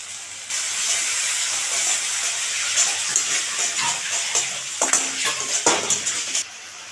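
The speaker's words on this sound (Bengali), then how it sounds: "মশলাটা ভালো করে কষিয়ে নেব" Spice masala with sour curd sizzling and hissing in a hot pan for a bitter gourd curry, a steady close sizzle broken by a few sharp bursts of spatter and stirring near the end.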